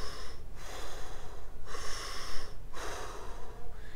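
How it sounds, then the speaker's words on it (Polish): Deep belly breathing done Wim Hof style, with three long, forceful breaths in and out through the nose, each a rushing, snort-like gust separated by short pauses, close and alone. "a my powinniśmy tak naprawdę oddychać brzuchem."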